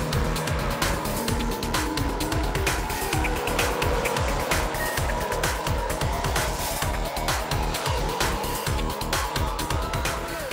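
A1GP open-wheel race cars roar past on the start-finish straight, one tucked in the slipstream of another, engines loud and continuous with a dense, sustained drone throughout.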